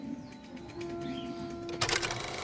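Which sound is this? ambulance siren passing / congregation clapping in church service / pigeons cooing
pigeons cooing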